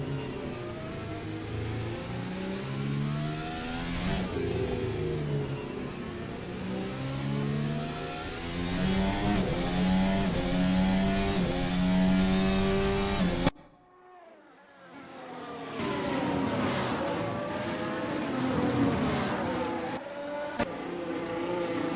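A race car engine howls as the driver accelerates hard at high speed, pitch climbing through the gears. It cuts off briefly during a shift, then revs hard again, loud and close.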